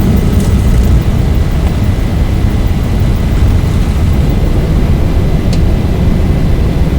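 Fully loaded airliner rotating on takeoff from El Paso International, its engines giving a loud, steady roar with heavy rumble, continuous throughout.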